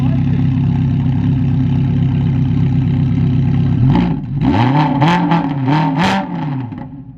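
A Ferrari engine drones loud and steady, then revs in a run of rising and falling surges, with a voice talking over it.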